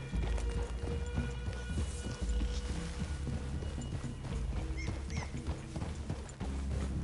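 Horses' hooves clopping in the Red Dead Redemption 2 video game, a steady dense rhythm of several animals moving together, loud and close over a low rumbling game soundscape.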